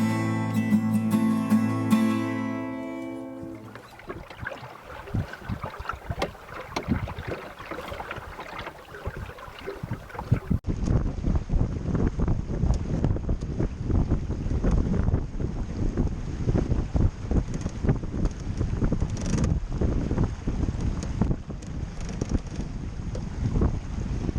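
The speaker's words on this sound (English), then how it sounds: "I'm setting sail from Big Pelican Island" Sharpie sailboat under way in open water near islands, steady wind rumble buffeting the microphone with water rushing and splashing along the hull, after a few seconds of music at the start.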